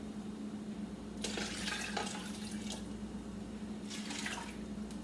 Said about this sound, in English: So I'm adding 10 cups of water